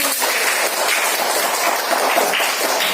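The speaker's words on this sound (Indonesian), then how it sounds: "Tepuk tangan untuk kelompok 1." Classroom applause for a group of students presenting in an elementary science lesson, a steady, fairly loud wash of clapping lasting the whole stretch without talk.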